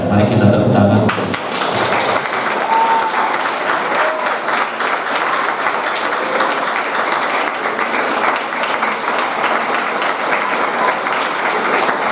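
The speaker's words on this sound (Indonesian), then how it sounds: "Dan mari kita tepuk tangan." Audience at a school anniversary celebration for a Catholic junior and senior high school breaks into sustained applause, dense steady clapping filling the room for about ten seconds after a brief spoken line at the start.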